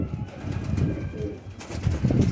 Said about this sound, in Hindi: ये बांको कबूतरों में आता है।